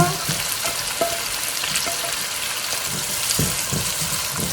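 Onions stir-frying in a hot pan for Korean jjajangmyeon, loud close sizzling with repeated scraping strokes of a spatula turning them, alone with no talk.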